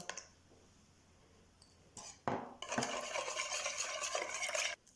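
Quiet room tone, then utensil clinks and a steady scraping, swishing stir of milk, water and egg in a mixing bowl, close and moderately loud, ending abruptly.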